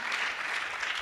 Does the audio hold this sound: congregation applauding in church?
yes